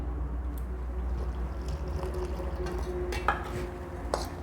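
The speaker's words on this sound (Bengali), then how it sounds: "এবারে এর মধ্যে দেবো জল" Gram flour batter being stirred and mixed in a bowl as water goes in, a steady low scraping churn with a few faint clinks, no talk.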